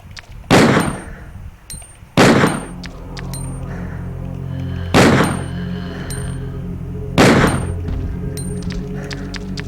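Gunfire from Resident Evil 2 during a speedrun, four loud, sharp shots spaced a couple of seconds apart, each with a metallic ring, over a steady low game background.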